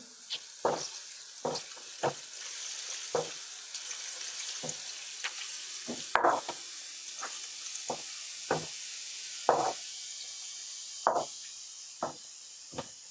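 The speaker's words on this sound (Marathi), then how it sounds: "हळद आणि धुवून घेतलेले बोंबील आता हे सगळं व्यवस्थित आपल्याला मिक्स करून घ्यायचं आहे" Washed dried Bombay duck tossed with turmeric in a pan gives soft scraping and clinking strokes, spaced irregularly, over a faint sizzle, close by.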